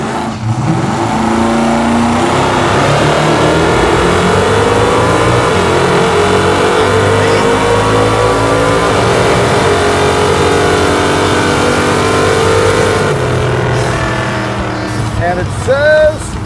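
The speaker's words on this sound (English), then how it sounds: "This thing is leaving hard on the nitrous, but unfortunately, it's also spinning the tires and slowing me down." A Hemi Super Bee drag car accelerates hard on nitrous with its tires spinning, a loud, steady, sustained engine roar that holds through the run and eases slightly near the end.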